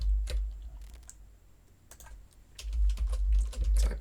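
Typing on a computer keyboard, close and clear: clusters of quick key clicks with a short pause in the middle, over a low steady background hum, with no talking.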